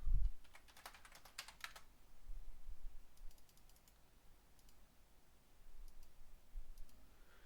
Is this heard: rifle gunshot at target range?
no